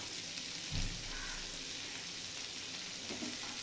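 Chopped onion and tomato fry lightly in a pan over medium heat, giving a soft, steady sizzle with a brief stirring scrape early on, fairly quiet and close, with no talking.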